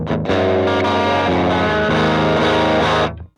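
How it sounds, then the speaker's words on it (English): Electric guitar played through the distortion channel of a Roland Jazz Chorus amp plugin, loud sustained distorted chords changing every half second or so, then cut off and fading at the end, no talking. "The Jazz Course, not known for its distortion, but it does have a distortion channel over here."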